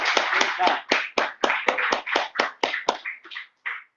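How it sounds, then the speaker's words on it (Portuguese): A church congregation claps in unison during a worship service, around a dozen loud, evenly spaced claps that slow and fade near the end, with voices mixed in. "Palmas para Jesus."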